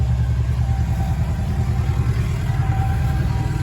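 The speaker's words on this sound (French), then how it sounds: "Ah, il y a un tracteur qui passe." A tractor rumbles past beside a chicken coop, a steady loud low engine drone with clattering mechanical noise that holds evenly throughout, no voices over it.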